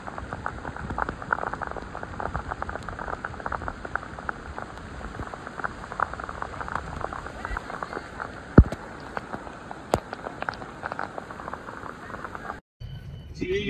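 Heavy rain falls in a dense, constant patter with scattered sharper drops, holding steady before cutting off abruptly near the end.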